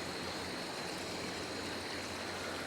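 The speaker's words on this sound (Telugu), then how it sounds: "ఇది రివర్ అయితే ఫ్లో అవుతుంది. చల్లకుడి రివర్ అంటారు దీన్ని." The Chalakudy river near Athirapally waterfalls in Kerala rushes in a constant, even wash of flowing water, soft and unbroken throughout.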